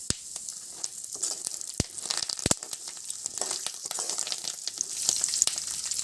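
A handful of curry leaves frying in a pan, crackling and sizzling steadily with stirring and a couple of sharp utensil knocks, close and even in level.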